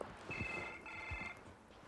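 A telephone rings in a kitchen on a 1985 British TV adventure game show, its two bursts of shrill bell tone steady and moderately loud over a noisy room background with low thumps.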